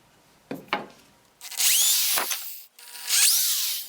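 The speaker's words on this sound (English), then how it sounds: "let's get some holes drilled in here and we'll get it mounted on the wall" A power drill bores holes in a wooden French cleat for a TV wall mount: two short taps, then two loud sustained whining bursts of the bit cutting through wood, with a brief pause between them.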